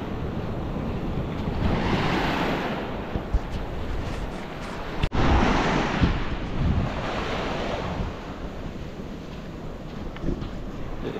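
Ocean waves wash steadily onto a beach of clear water, a continuous close surf roar with wind buffeting the microphone and a brief dropout partway through, no voices.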